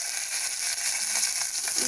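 Curry leaves frying in a pan on medium heat for ulava charu, a steady soft hiss and crackle with faint spits, close and continuous, no talk.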